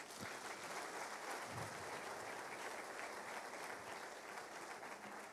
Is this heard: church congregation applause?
yes